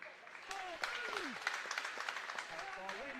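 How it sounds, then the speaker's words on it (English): A rugby league crowd in the Widnes v Sheffield game applauds a drive, distant clapping heard under a commentator's voice. "Applause for the drive."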